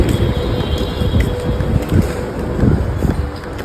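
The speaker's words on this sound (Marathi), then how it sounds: "वारा पण इकडे खूप थंडगार सुटलेला आहे" Strong wind gusts buffet the microphone, producing a loud, continuous low rumble with uneven surges.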